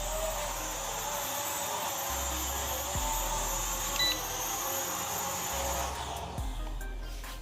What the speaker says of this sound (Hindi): पहले हम लोग ड्रोन को अपने पास ले आते हैं।